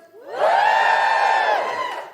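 A studio audience at a live comedy podcast recording lets out a loud, whooping cheer that swells quickly, holds for about a second and a half, then fades.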